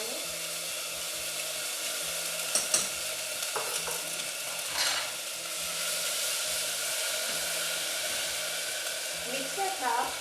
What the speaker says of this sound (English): So I'm going to add 1 tablespoon of vegetable oil. To this I'll add the crushed ginger and garlic.